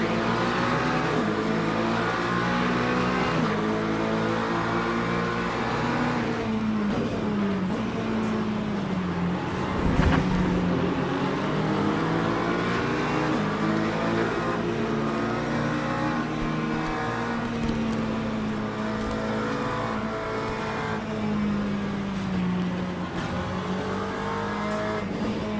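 Race car engines roar continuously in the Le Mans Ultimate sim as the field piles into the first turn, loud and sustained, with shifting revs, gear changes and cars passing close by.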